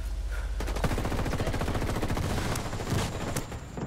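Rapid gunfire crackles in a Ghost War ranked match, dense bursts of automatic shots trading back and forth for several seconds, loud and continuous with no talk.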